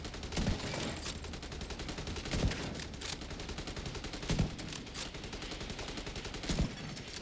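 Rapid automatic gunfire from The Division 2 video game rattles continuously, dense bursts with periodic heavier booming shots punctuating the stream at steady intervals, moderately loud throughout.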